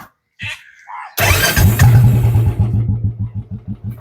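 A Royal Enfield Bullet motorcycle fitted with a new silencer cranks and fires up, settling into a loud, close, steady thumping idle with an even, rhythmic beat.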